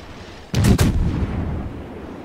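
Warship guns fire in World of Warships, a Furutaka cruiser letting off two sharp booming shots in quick succession that roll into a fading rumble, loud and close with no talk.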